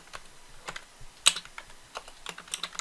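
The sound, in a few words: typing on a computer keyboard, pressing Tab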